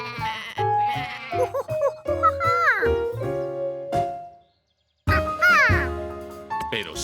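Several wavering, high bleats like sheep calling in quick succession in a cartoon, with a short silence before more bleating; a child-like voice may be mixed in.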